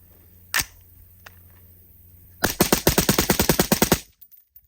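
Rifle fire through a Dead Air Lazarus 6 suppressor on a budget PSA upper: one sharp shot, a faint click, then a rapid burst of about fifteen loud, evenly spaced suppressed reports that ends abruptly.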